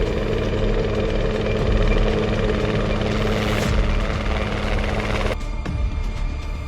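A helicopter's loud, steady rotor drone with a rhythmic chop, continuous throughout before the sound abruptly thins out near the end.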